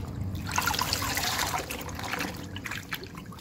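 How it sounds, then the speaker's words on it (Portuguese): A dyed garment is rinsed by hand in a basin of water with a spoonful of salt, giving a steady close trickle and slosh of water with small drips for several seconds. "Então a gente vai enxaguar, só vai enxaguar ela assim, com água e sal."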